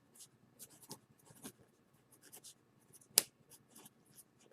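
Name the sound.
pencil writing, lead breaking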